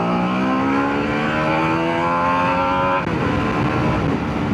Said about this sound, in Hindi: लाइक देखिएगा, मैं सेकंड गियर में पुल करूँगा,